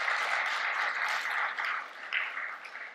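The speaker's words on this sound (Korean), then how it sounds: "다시 한번 감사의 박수 보내드릴까요" A church congregation applauds after the praise team and a handbell choir: dense, steady clapping from many hands that fills the room and eases off toward the end, with no talking.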